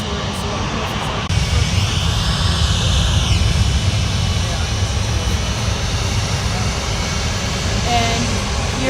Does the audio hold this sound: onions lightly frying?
no